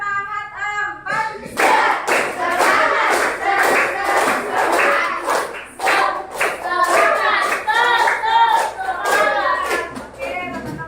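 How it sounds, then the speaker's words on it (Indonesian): Students in an economics class perform a rhythmic spirit clap, with patterned bursts of hand claps mixed with children's chanting voices filling most of the clip after a brief quiet start. "Semangat satu, semangat dua, semangat tiga, tepuk semangat empat."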